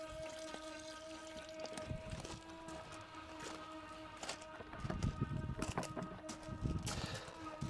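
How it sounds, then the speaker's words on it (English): Fresh water drains from the tank of an Auto-Trail Delaware S motorhome through an opened tap, a faint trickling and splashing with scattered soft knocks that grow slightly busier toward the end. "you would let the fresh water out of the system by turning this tap"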